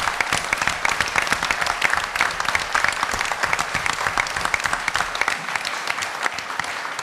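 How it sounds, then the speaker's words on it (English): An audience at a legal ceremony gives a sustained round of applause, dense steady clapping from many hands that fills the room for several seconds without a break. "let's give them another round of applause."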